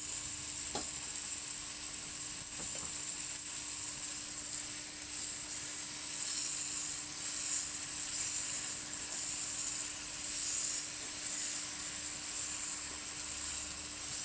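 Tomatoes and onion with a little salt sautéing in a pan for masala egg fry, a long, even, quiet sizzle with faint occasional stirring clicks and a low steady hum beneath.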